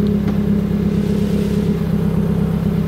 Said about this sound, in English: It's literally impossible for me not to be loud in this car.